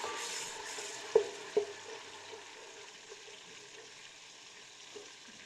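Chopped onions go into a pan to fry for beef handi kabab, giving a soft, steady sizzle with a couple of sharp clicks near the start and faint stirring noises after.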